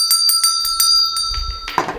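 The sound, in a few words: bell rung during a tarot reading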